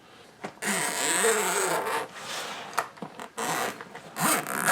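Zipper on an AKASO 20L waterproof backpack cooler with an aluminum T handle, pulled in several long rasping runs and shorter tugs, close and loud, with no talking.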